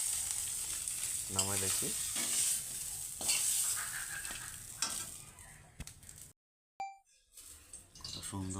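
A fish head frying in a pan for a gourd-and-fish-head curry, with steady sizzling, stirring scrapes and a few plops, while a person talks briefly nearby; a short silent gap comes near the end.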